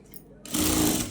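A sewing machine stitching a blouse sleeve starts up after a quiet moment and runs in a loud, steady close-up whir.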